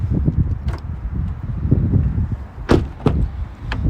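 Rear door of a 2021 Subaru Forester Touring being unlocked and opened, with a sharp latch click and the thunk of the door releasing partway through, over steady outdoor wind and low rumble.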